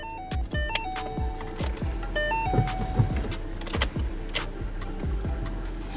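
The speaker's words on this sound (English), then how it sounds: "Yes, it's doing the same thing still, where it just does not like to start." A twin turbo Boss 302 engine cranking repeatedly without catching, a rhythmic series of starter whirs and clicks with chimes and tones mixed in, fairly quiet and close, no voices.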